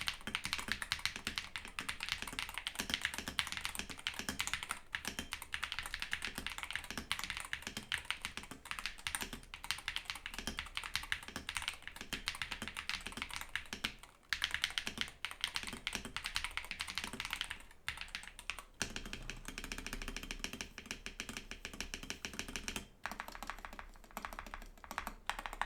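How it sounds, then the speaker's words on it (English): Continuous rapid clacking of a stock Pulsar PCMK 2 HE TKL Hall effect magnetic gaming keyboard, a dense close-up stream of taps with brief pauses, no voices. "here is a sound test with a completely stock keyboard"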